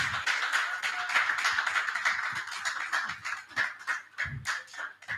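A panel audience at a conference on Nigeria's power sector gives sustained applause, many hands clapping quickly and evenly, then thinning toward the end.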